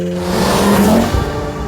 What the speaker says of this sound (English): welcome to my supercharged MX5